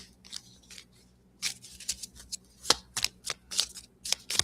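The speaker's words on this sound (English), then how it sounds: "Shuffling the teeny tiny tarot deck." A very small tarot card deck being shuffled by hand, giving bursts of crisp riffling and flicking card sounds in irregular clusters, close and clear with no voice.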